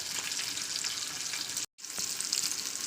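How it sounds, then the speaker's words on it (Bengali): Fish pieces fry in hot oil with a dense, continuous hiss of sizzling close by, briefly cut off by a short silent gap before resuming, with no voices. "তেলটা ভালো গরম হয়ে গেলে আমি এক একে সমস্ত মাছগুলোকে দিয়ে দিলাম। তো মাছগুলোকে ভালো করে ভাজা করে নেবো।"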